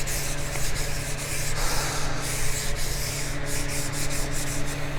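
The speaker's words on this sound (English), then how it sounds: "I'll just take my sandpaper and hit the side of it." Sandpaper rubbed by hand along the side of a rusty table saw, close and alone, with steady back-and-forth scratchy strokes repeating throughout.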